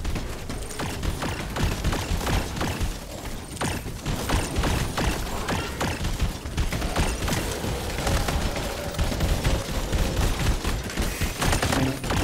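Gunfire from the sci-fi tactical video game Red Solstice 2, with a dense run of sharp, loud shots and mechanical clatter repeating without pause over a busy game soundscape, with no talk.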